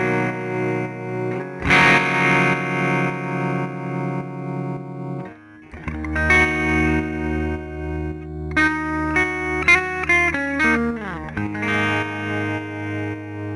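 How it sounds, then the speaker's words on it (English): An electric guitar through a Line 6 Helix Native tremolo effect plays sustained chords and notes that pulse rhythmically in volume, with distorted tone and changing chords throughout. "suddenly I've got that tremolo going before any reverb"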